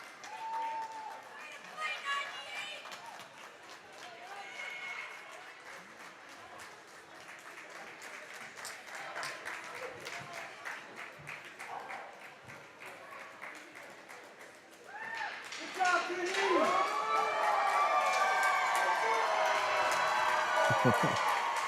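Hockey fans at an 18U playoff game cheer and applaud in a rink, a steady crowd roar that swells louder and fuller partway through, with voices mixed in.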